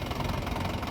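A tractor engine idles in a field, a steady close low rumble with a knocking vibration throughout the brief moment.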